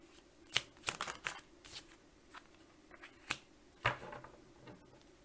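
Tarot cards are shuffled for a reading, several soft riffles and sharp flicks at irregular intervals, close and quiet against a hushed room, without speech.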